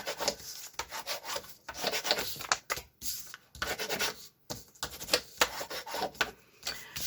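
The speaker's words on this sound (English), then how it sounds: "I'm just gonna burnish my tape" Tape being burnished onto a banded tag with quick, dry rubbing strokes in short bursts, close up and fairly quiet, with brief pauses between the passes.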